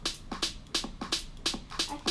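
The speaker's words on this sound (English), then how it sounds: "Then last we have an 808 snare," 808 snare sample in FL Studio struck in a quick repeating pattern, about seven sharp bright hits with short noisy tails, fairly quiet and alone.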